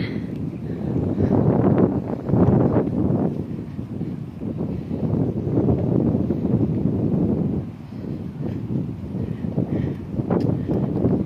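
Strong wind roars steadily across the microphone, a loud continuous rushing with gusty swells and rustling, no voices.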